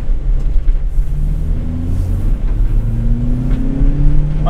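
A Toyota Celica GT-S pulls away on a cold, slick road, its engine a steady low rumble with rising revs throughout, close and continuous with no talking.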